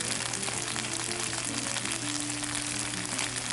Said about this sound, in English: That sizzling is the rice toasting.